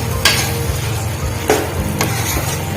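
Dry potato sabji is stirred in a pan, a spoon knocking the pan three times in uneven strokes over a steady close sizzle.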